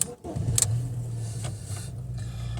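A 2009 Fiat Stilo Sporting engine cranks with a short whir, then settles into a low steady idle rumble that continues to the end.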